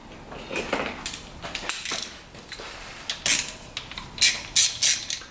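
Tools work on the valve cover of a UTV engine, giving irregular metallic ratchet clicks and scraping, close and fairly loud, in short bursts with brief pauses and no speech.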